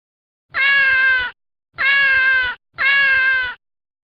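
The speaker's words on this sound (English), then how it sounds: "What sound does a cat make?" A cat meows three times in a row, each a drawn-out, loud, close cry with short pauses between, on a farm-animal sound sequence with no talking.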